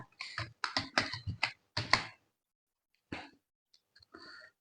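Quick bursts of keystrokes on a computer keyboard while CSS code is typed, a rapid run of clicks followed by a pause and a few scattered taps, close and clear.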